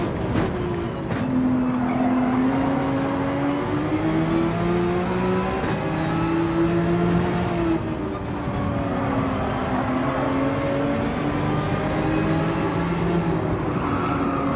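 A race car's engine in a lap-racing video game, revving loudly and steadily for the whole stretch, pitch climbing and falling through gear changes, with occasional tire skids and no talk.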